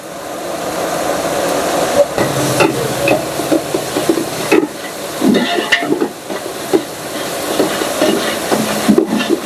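A large batch of chicken kurma with onions, tomatoes and chilli powder is stirred in a big pot, with loud, irregular scraping thumps and a low frying sizzle running underneath.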